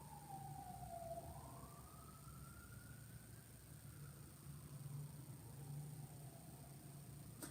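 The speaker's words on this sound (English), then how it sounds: "There's an ambulance." An ambulance siren wails as it passes at a distance, one long rising and falling tone sweeping across the clip over steady background hum, with no voices.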